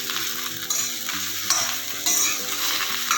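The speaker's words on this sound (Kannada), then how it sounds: "ಇದು ಚೆನ್ನಾಗಿ ಆಗಬೇಕಪ್ಪ ಚೆನ್ನಾಗಿ ಫ್ರೈ ಆಗಬೇಕು ಆಡಿಸ್ತಾ ಇದೆ ನೋಡಿಪ್ಪ" Fresh okra frying in a little oil while being stirred, a loud, close, continuous sizzle with scraping spoon strokes against the pan.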